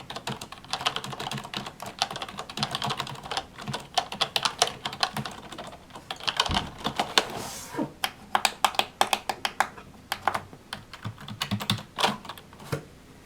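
Steady, quiet clacking of fingers typing on a soft, low-profile non-mechanical Roccat ISKU FX keyboard, with irregular bursts of keystrokes and a few brief pauses.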